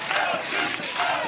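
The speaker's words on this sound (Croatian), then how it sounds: "Vranjic navijaju." Vranjic supporters at a City Games semi-final in Kaštela cheer and chant together, a loud, dense crowd roar with rhythmic rising shouts that runs without a break.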